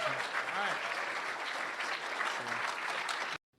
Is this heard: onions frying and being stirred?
no